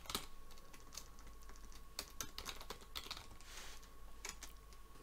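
Quiet, rapid keystrokes on a computer keyboard while entering Python code, forming an irregular run of close, light clicks with short pauses between bursts.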